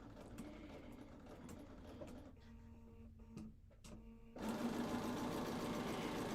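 Sewing machine stitching quilt fabric for a signature block, a steady mechanical whirr that slows and briefly pauses midway, then resumes louder and faster, heard close with no speech.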